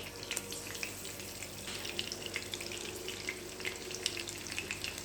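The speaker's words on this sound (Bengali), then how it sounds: "তেলের মধ্যে আমি একটা একটা করে বেগুন দিয়ে দিচ্ছি" Eggplant slices fry in hot oil in a pan with a steady, soft, hissing sizzle and scattered faint crackles, heard close up and alone at low level.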